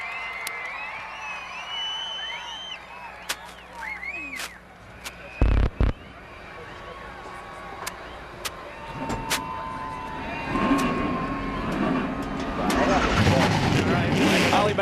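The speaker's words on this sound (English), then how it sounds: "everybody fired their engines right up. 36 trucks have come to life here at Las Vegas Motor Speedway" Thirty-six NASCAR trucks fire up their engines at Las Vegas Motor Speedway before the 2010 Smith's 350. Scattered clicks and bangs give way to a swelling, dense roar in the later seconds, under steady announcer talk and crowd noise.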